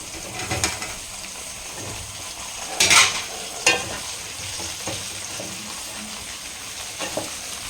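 Brinjal and onion are stir-fried over a high flame for a biryani brinjal gravy. A constant sizzling hiss carries on up close, broken by several louder scraping and tossing strokes of a spatula.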